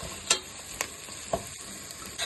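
Onions frying in a pan for home-style chicken biryani, a faint soft sizzle under a few sharp clinks and scrapes of stirring, spaced irregularly, with no voices.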